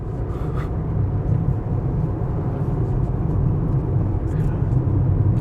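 Inside a moving 2004 Seat Ibiza 6L1, road and wind noise make a constant low rumble and broad roar at low speed, loud and unbroken beneath a voice talking.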